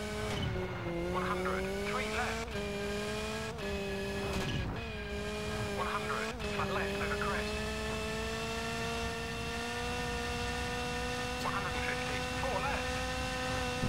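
Rally car engine in V-Rally 3 on a Finland stage, a steady loud drone with shifting pitch and brief skids, some gear changes early on, continuous throughout.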